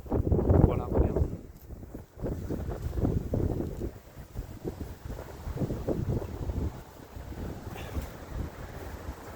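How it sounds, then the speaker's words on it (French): Strong wind buffets the microphone outdoors in cold winter weather, a loud rushing roar with gusts that rise and fall throughout. "Il y a beaucoup de vent."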